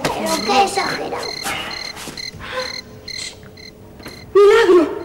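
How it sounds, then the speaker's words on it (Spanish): Cricket chirping steadily through a night scene, with voices of children's TV characters talking over it and a louder voice near the end. "¿Tú tampoco oyes el grillo?"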